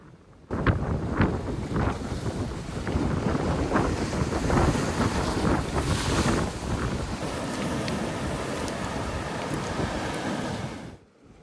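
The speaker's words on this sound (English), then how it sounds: "It was getting really windy." Strong wind roars across a rocky Pacific shoreline, a loud, steady gusting rush buffeting the microphone over the deeper wash of surf, with no voices.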